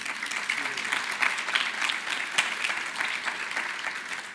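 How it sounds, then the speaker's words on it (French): Audience applause for a speaker being introduced at a French business talk, steady dense clapping from a crowd throughout, with a voice speaking over it. "je vais vous demander d'applaudir Koussé Vaneke"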